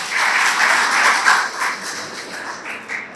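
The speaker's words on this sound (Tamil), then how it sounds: "கைதட்டுகள் எல்லாரும்." Audience applause at a Tamil political speech event, a steady burst of crowd clapping lasting a few seconds, fairly close and loud, with no talk over it.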